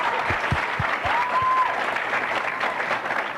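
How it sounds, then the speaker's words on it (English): Applause from a bowling event crowd at a women's professional tournament rolls on steadily for a few seconds, a broad wash of clapping with a few low thumps early on. "that is well-deserved applause"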